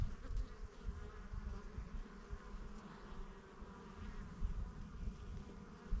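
Honey bees buzzing around an active beehive, a dense, continuous droning hum from many insects close by, with small swells in loudness.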